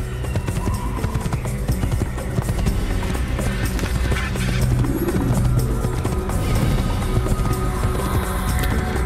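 Galloping horse hooves in Assassin's Creed, a steady drumming gait rolling on under game ambience and music, loud and continuous throughout.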